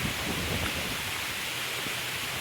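Heavy monsoon rain pours down on a Konkan farm, a dense, steady, loud hiss of falling water with no breaks or voices.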